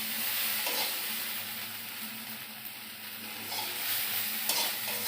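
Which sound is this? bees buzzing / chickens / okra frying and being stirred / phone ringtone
okra frying and being stirred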